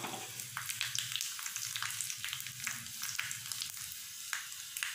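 Mustard seeds, urad dal, broken chillies and asafoetida fry in hot oil for a buttermilk okra curry, a loud close sizzle with rapid crackling spatters throughout.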